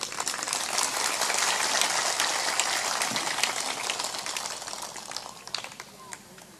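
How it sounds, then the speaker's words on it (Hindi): Audience clapping at a spiritual discourse in Harinaha, a dense steady wash of many hands that swells early, then thins and fades toward the end with a few scattered claps. "इतनी मरी मराई ताली भी मत बजाया करो, जोर से बजाया करो"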